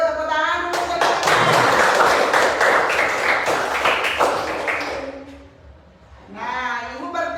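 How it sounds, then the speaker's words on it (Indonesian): A classroom of students bursts into applause for about four seconds, dense clapping that swells and then fades, with voices speaking before and after it. "silakan duduk, tepuk tangan dulu"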